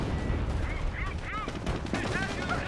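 Rapid gunfire crackles through a Company of Heroes battle, with bursts of shots and chatter at mid distance under a busy mix of battlefield noise and brief voices.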